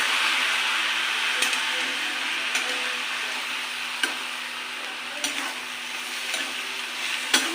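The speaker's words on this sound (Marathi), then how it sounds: "आता दही चांगल्या पद्धतीने मिक्स करून घेऊया" Half a cup of yogurt stirred into sautéed country okra in a pan: constant hissing sizzle with periodic light spoon knocks against the pan, close and steady.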